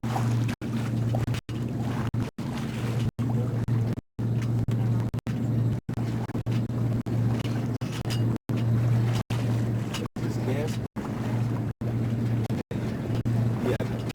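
A sailboat underway in the wind gives steady rushing wind and water noise with a constant low hum, broken by repeated brief dropouts throughout; no speech is heard.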